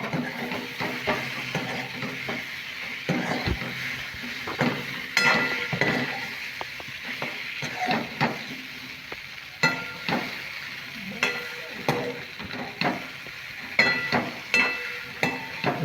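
A spoon stirs a semolina snack mixture in a sizzling pan, scraping and clinking against the metal in an irregular, fairly close rhythm over a soft, steady frying hiss.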